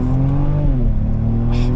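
The 3.5T engine of a 2022 Genesis GV70 Sport Prestige revs inside the cabin, its note partly piped through the speaker system, a loud rising and falling engine drone heard close, alone for a brief moment.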